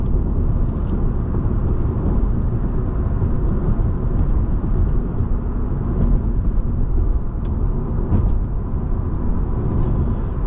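Constant low tire roar fills the cabin of a 2007 Honda Accord Coupe EX-L V6 while it is driven, a steady rumble with faint wind hiss that stays even throughout and has no talk over it.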